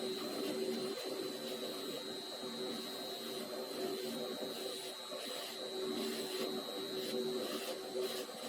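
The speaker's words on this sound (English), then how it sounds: "This is the cross slide hand wheel mount flange, and I'm trying to be very careful here buffing it" A buffing wheel works on a lathe cross slide hand wheel mount flange from a Rockwell lathe, producing a steady whirring motor drone with a constant high whine and slight fluctuations as the part is pressed against it.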